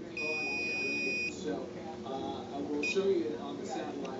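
A multimeter's continuity beeper sounds while fuses on a Vizio LCD TV main board are tested: one steady tone of just over a second, then a brief chirp later, with faint handling noise between.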